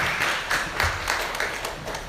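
An audience at a panel on intergenerational trauma and mental health gives a speaker a warm round of applause, a continuous, somewhat distant wash of clapping with gentle swells throughout.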